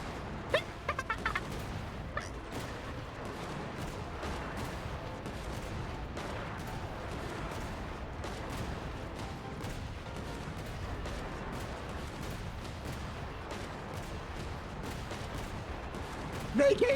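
Rapid, repeated shooting in the video game Genshin Impact, sounding as a dense run of short sharp bursts over busy game noise and music, with a player voice shouting at times.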